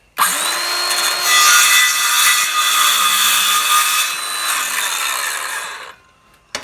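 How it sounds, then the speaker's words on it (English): A handsaw cutting through pen blank casings in a woodturning shop, one continuous close, loud rasping pass of about six seconds, alone with no talking. "I'm just gonna grab the same handsaw and yeah, cut those off."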